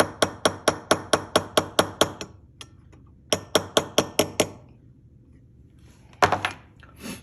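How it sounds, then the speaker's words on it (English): A light hammer taps a harmonica reed plate in two quick runs of evenly spaced sharp metallic clicks, close and crisp, with a short quiet gap between the runs and a brief scrape at the end. "I'm letting, kind of like a jackhammer, I'm floating the light thumps over from front to back"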